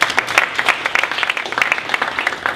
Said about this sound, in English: Once again, a round of applause to Sheun.